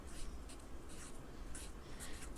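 A pen scratches and squeaks across a board in short strokes, several quick bursts of marking over about two seconds, close and quiet with no talking.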